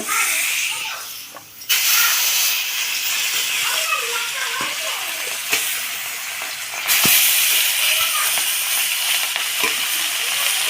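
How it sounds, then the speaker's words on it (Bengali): Steady, loud sizzling of fish frying in hot oil, a dense crackling hiss that surges louder partway through and keeps going without pause. "তেলটা গরম হয়ে গেছে, এখন মাছ কটা দিয়ে দেব।"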